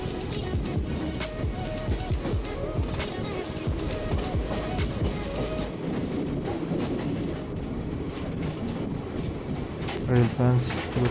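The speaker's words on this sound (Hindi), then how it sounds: "सामने से एक WAP-7 इंजन दिख रहा है" A passenger train hauled by a WAP-7 electric locomotive passes on the Farakka to Malda Town line of Eastern Railway, with loud, continuous rumbling and rhythmic clickety-clack of wheels heard close by from onboard.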